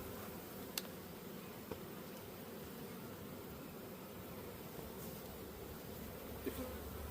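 A dense swarm of honeybees hums steadily and close around a beekeeper's hive, a continuous buzzing drone with a few faint ticks and knocks, no voices present.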